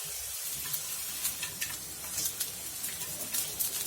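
Long carrot strips sizzling in hot oil in a pan for spring rolls make a steady close hiss with faint crackles throughout, without talk.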